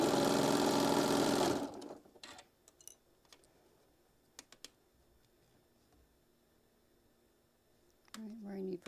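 Sewing machine stitching fabric down, a loud steady run for about a second and a half that cuts off, followed by quiet handling clicks and a few taps, with a voice coming in at the end.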